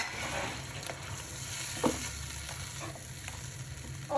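Yogurt being stirred into frying beef for degi yakhni pulao produces a moderate sizzle with scattered scrapes and clicks of the stirring spoon, close by and without speech.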